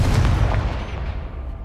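A Confringo blasting spell from Hogwarts Legacy bursts as one loud, booming explosion, with a low rumbling tail that fades over under two seconds.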